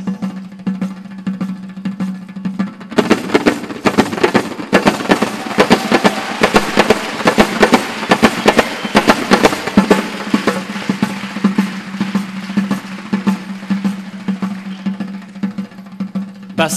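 A doira frame drum played to mimic one train passing another: a dense, rapid, rattling stream of strikes that builds after a quieter opening and keeps a steady, loud, driving rhythm with a low hum underneath.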